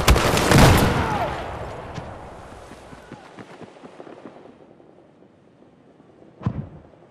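A hand grenade exploding in the video game Battlefield 4: a loud, close blast opens, then a long rumbling decay with scattered debris crackle, and a second sharp bang follows near the end.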